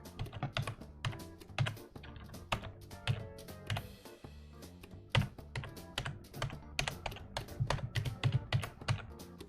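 Rapid computer keyboard keypresses clatter steadily during video game play, dense irregular clicks mixed with layered game music throughout.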